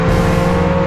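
A car driven in the video game Roblox hums with a steady engine drone and strong tonal harmonics, continuous and close throughout the short moment with no talking.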